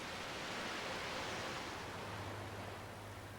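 Water and air are forced up through sand in a filter tank during backwashing, giving a continuous rushing hiss like heavy surf that fades slightly toward the end.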